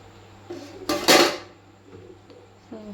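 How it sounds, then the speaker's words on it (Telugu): Onions go into a cooking pan and are stirred while bottle gourd pulusu is made in a home kitchen. A spoon scrapes and clatters against the pan in a short, close burst, with quieter taps before and after. "ఇప్పుడైతే ఇంకా ఆనియన్స్ వేస్తున్నాను అనమాట."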